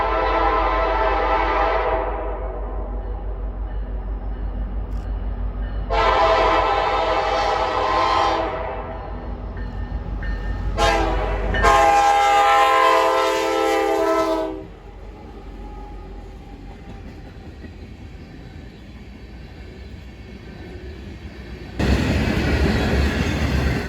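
An Alaska Railroad northbound freight, about 6,000 feet long and mostly empty tank cars between the lead locomotives and a distributed power unit, passes a public crossing at milepost 133.1 in Birchwood, north of Anchorage. Several loud, long horn blasts sound over a steady, heavy rumble.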